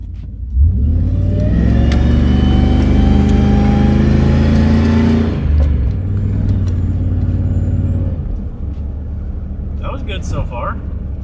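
A supercharged OBS Ford pickup engine revving hard under a pull, a loud, close rumble with rising and sweeping pitch for several seconds before settling to a steady drone while someone talks.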